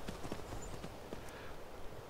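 Horse hooves clop in Skyrim, a quick series of faint, uneven hoofbeats across the clip under a low background wash, with no speech.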